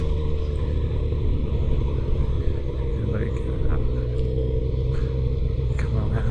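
A motorcycle on the road pulls up through the gears from first to third, its engine a loud, continuous low rumble with road and wind noise throughout.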